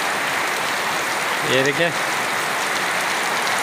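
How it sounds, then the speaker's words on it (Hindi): Heavy rain pours steadily over a village, a dense continuous hiss close by, with someone briefly speaking partway through. "कितनी ज़बरदस्त बारिश लगी हुई है।"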